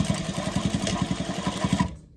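A sewing machine stitches down the strap of a tote bag, running in a fast, even run of mechanical pulses at close range before stopping abruptly near the end.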